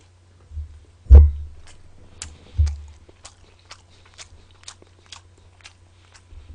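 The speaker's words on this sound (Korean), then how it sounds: "치킨 먹기 바빠서" A few crunchy bites into chicken during a Korean mukbang eating show, followed by soft, quiet chewing and small mouth clicks; close to the mic, with no talking.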